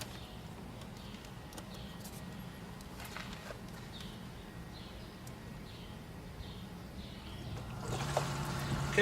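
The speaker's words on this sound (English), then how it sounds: "our variable speed pump just kicked on" A variable speed pool pump runs in filtration mode, giving a steady, low, even hum throughout, with birds chirping faintly outdoors and the noise swelling slightly near the end.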